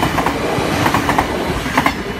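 A train rolls past at Nieuwstadt, loud and close, with continuous rumbling and rhythmic clickety-clack of wheels over rail joints throughout.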